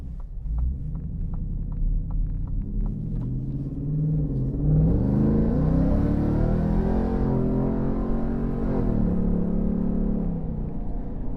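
Supercharged 5.2-liter engine of a modded 700 hp Ford F-150 Raptor R heard from inside the cabin, idling with a low throb, then surging into a rising, droning acceleration with supercharger whine before easing back; no talk.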